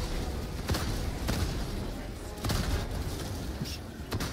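Scattered gunshots crack at irregular intervals in a Helldivers 2 battle against Automatons, fairly distant and faint beneath a constant background rumble.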